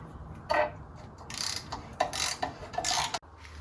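A ratchet turns bolts off a Bolens Ride-a-matic engine, with several short bursts of rapid clicking from close by, separated by brief pauses and ending in a sharp knock.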